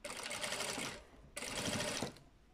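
A sewing machine stitches along the wavy edge of lace on a small doll-sized clown outfit, running in two loud continuous bursts separated by a short pause.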